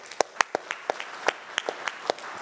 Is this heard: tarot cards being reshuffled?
no